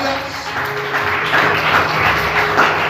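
A church congregation applauds during a sermon, a dense, steady patter of many hands filling the room at moderate loudness with no clear speech over it.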